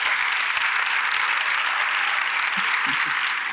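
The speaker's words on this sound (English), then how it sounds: "Please give a round of applause to Mr." A crowd at a Cleveland Ward 7 community meeting applauds Harry Boomer, a resident of Ward 7, with dense, steady clapping throughout and a few faint voices near the end.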